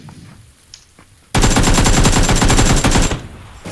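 Loud, sustained automatic gunfire in a first-person video game shooter bursts in after a quiet lead-in, rattling rapidly for nearly two seconds before cutting off.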